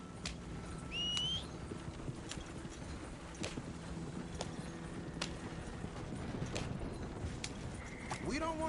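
Horse hooves clip-clop at a steady run in Red Dead Redemption 2, under a constant bed of game noise, with a few brief whistles and a voice urging the horse on.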